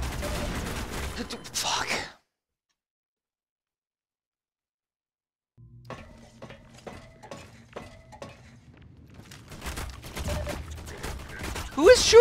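Bursts of gunfire from the Half-Life 2 Highway 17 chapter: rapid clustered shots after a silent gap, with someone talking and swearing over the shooting at the start and end.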